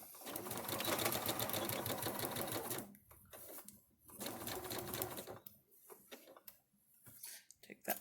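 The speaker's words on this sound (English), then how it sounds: "Okay, we're at the sewing machine now. I'm ready to sew in that little bit of a pleat." A sewing machine stitches a pleat into fabric in fast, rhythmic bursts, first for about three seconds, then again after a short pause, followed by quieter handling clicks.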